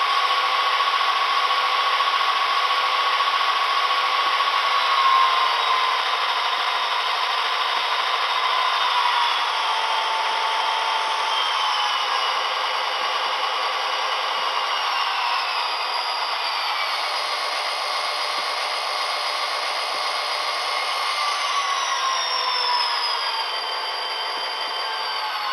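An Athearn SP Daylight SD40R model locomotive fitted with an Econami sound decoder runs steadily, giving a continuous droning diesel engine sound with a faint mechanical hum, close and without talk.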